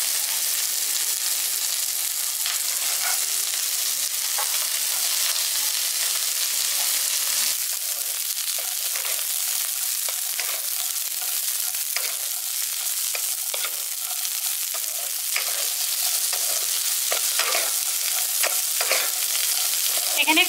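Cauliflower and peas lightly frying in a pan for a village-style pulao, giving a loud, even, unbroken hiss of oil with faint stirring scrapes, no talking.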